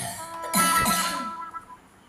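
A single close cough from one person, a hoarse throaty burst that fades out over about a second, with no speech around it.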